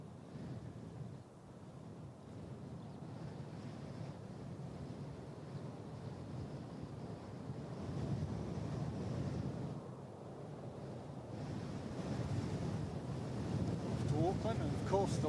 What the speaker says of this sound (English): And of course the wind picks up again.